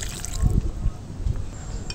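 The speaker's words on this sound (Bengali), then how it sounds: "জল দিয়ে দেবো।" Water is poured into a pan of mung dal and ridge gourd curry in a home kitchen, a short splashing trickle with a few sloshes, close by.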